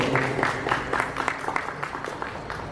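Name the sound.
audience applause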